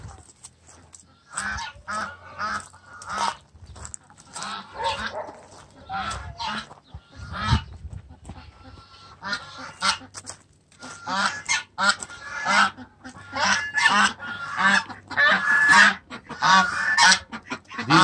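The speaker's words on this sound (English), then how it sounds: "These are the geese" Caged farm geese honk loudly and repeatedly in overlapping bursts, with brief pauses between noisy flurries of calls close by.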